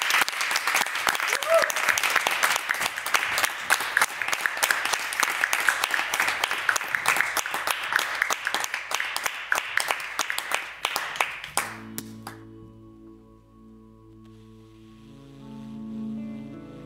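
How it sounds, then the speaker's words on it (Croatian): A studio audience on a home-style talk show claps loudly and steadily for about eleven seconds, then the applause fades into soft music. "I mi smo tvoja publika i sad ćemo ti zapljeskati"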